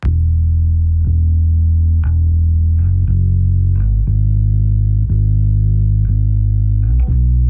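Deep, sustained bass guitar notes with a thick, heavily squashed, effect-laden tone, plucked roughly once per second in a slow, even rhythm.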